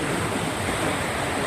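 Sea waves wash against the shore in Japan in a continuous broadband roar, loud and steady with no distinct breaks or voices.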